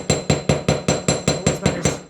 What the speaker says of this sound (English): Get a steel block, and I'm just going to hammer the whole cat.